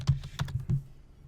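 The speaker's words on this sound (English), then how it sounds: "if I go out to w3schools.com and after it I type in /JavaScript" Several crisp keystrokes come in quick succession as a web address is typed on a computer keyboard, close and fairly loud, with no talking.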